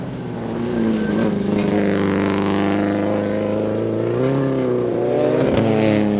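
A rally car races on snow at the Big White Winter Rally, its engine loud and near with a sustained drone that rises and falls as it revs and shifts. No voices are heard.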